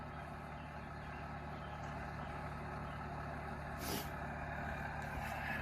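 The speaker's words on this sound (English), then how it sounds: "air compressor's running" An air compressor runs steadily beside a 2000 Lincoln Town Car being checked for air suspension faults, a faint continuous mechanical hum with a brief hiss of air partway through.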